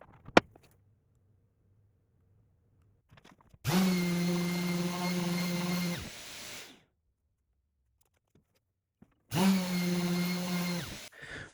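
Two bursts of a loud, steady power-tool whine with a buzzing hum, each lasting a few seconds and separated by quiet.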